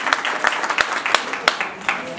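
Congregation claps in a steady rhythm at a church fundraiser, six or seven evenly spaced hand claps ringing out over a low hum of voices in the room.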